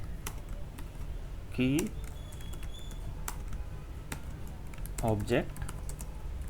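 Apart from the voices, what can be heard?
typing code on a computer keyboard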